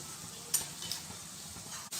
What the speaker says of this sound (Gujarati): આપણી ડુંગળી બરોબર શેકાય ત્યાં સુધી આપણે એને શેકવાની છે હવે એમાં નાખીશું આપણે એક ચમચી જેટલું ક્રશ કરેલું આદુ